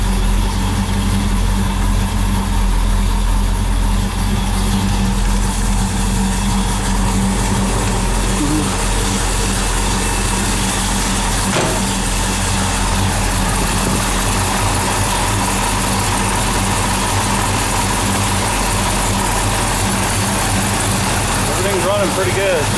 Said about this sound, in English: I think it's my powder coated pulleys are just slipping on those belts